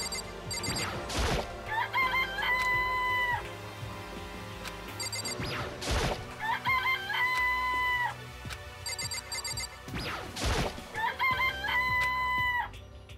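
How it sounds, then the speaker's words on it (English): Chickens in Danganronpa crowing and clucking in three evenly spaced bursts, each a patterned stepped call, with sharp crashing hits between them and no talking. "This place even has chickens, huh?"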